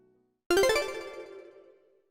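A phone ringtone starts suddenly after a moment of quiet: a loud, close melodic chime of a few quick notes that rings out and fades over about a second and a half.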